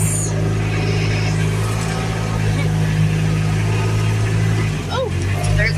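A Kubota utility vehicle engine drones steadily at a low pitch throughout a ride. Someone talks over the engine noise.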